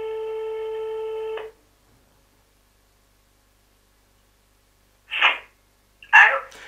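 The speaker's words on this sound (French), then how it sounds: "je vais passer un petit coup de téléphone à un témoin" A telephone tone sounds as a call is placed, a steady electronic beep lasting over a second before cutting off into silence. Two short bursts of voice follow.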